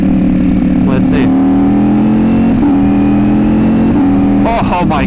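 A Ducati Panigale V4 superbike held at a high, steady engine drone on a dyno, loud and close, with a few brief shifts in pitch and some human voice over the engine.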